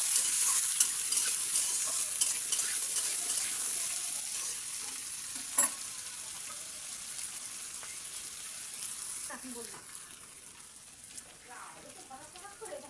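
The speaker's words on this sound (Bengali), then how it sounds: "আলু পেঁয়াজটা একটু ভালো করে ভেজে নেব।" Potatoes and onions frying in a pan make a steady, close sizzle throughout, with a few sharp clinks and scrapes of stirring.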